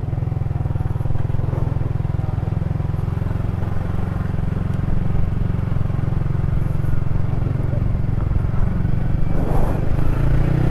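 A Yamaha R15 V3 motorcycle rides at full throttle toward a harbour, a steady loud engine drone with wind rush that lasts throughout, and a rider speaks faintly now and then.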